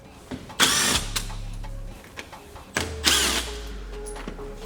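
Two short bursts of a power tool backing out T30 screws from a BMW M3/M4 G80/G82 bumper, each a sharp whir separated by a quiet gap, close and fairly loud with no talking.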